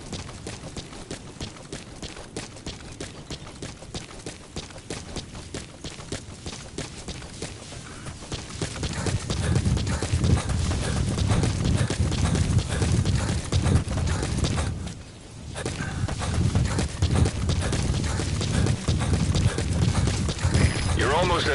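In the Metal Gear video game, a horse being ridden produces rhythmic, regular hoof clip-clops that are clear at first and then sit under louder, denser in-game noise, with a brief dip in sound near the end.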